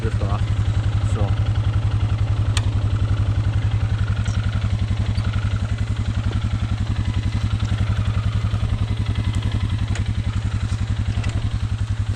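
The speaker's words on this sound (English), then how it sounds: "as soon as I give it a bit of throttle to get off this log, get up this log" A motorcycle engine idles and pulses steadily up close on a forest trail while the rider tries to throttle up over a log; the rapid, even chugging continues throughout, with someone talking over it.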